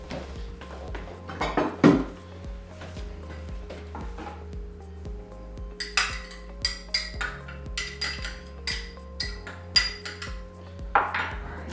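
Ceramic bowls and dishes clatter and clink in a home kitchen while stuffed mushrooms are prepared, with scattered knocks, scrapes and rattles at irregular intervals, some louder bangs standing out.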